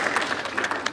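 Applause from an audience at a comedy show, close and dense clapping with no gaps for just under a second.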